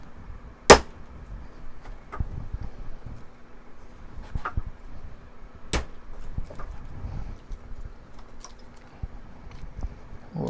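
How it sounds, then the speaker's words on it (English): Workpiece clamped in a vise gets a few light whacks, one sharp loud strike early followed by scattered quieter taps and handling noises in an otherwise quiet room. "putting it in the vise and then just give it a little whack"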